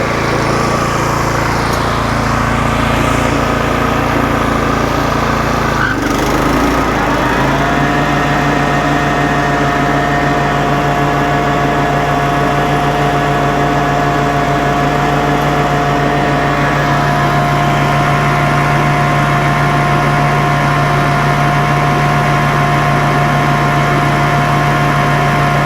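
A Toro Time Master lawn mower engine runs continuously up close with loud, steady droning and a sustained whine, while its idler pulleys spin; a brief disturbance breaks the tone early before it settles into an even hum.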